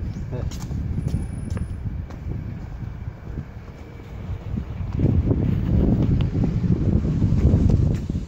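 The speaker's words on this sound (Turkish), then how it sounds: "Rüzgar." Gusty wind buffets the microphone outdoors on a snowy street, rumbling in uneven low bursts that grow stronger toward the end, with talk at times.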